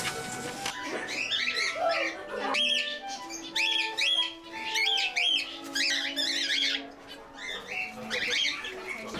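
Birds at a wildlife rescue centre chirp, squeak and whistle in busy overlapping bursts throughout, close and fairly loud, with no talk.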